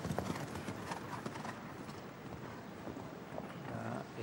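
Show-jumping horse hooves thud and clop across the indoor arena of the Grand Palais in Paris during a Grand Prix jump-off, heard fairly distant and soft beneath a steady wash of crowd and hall ambience.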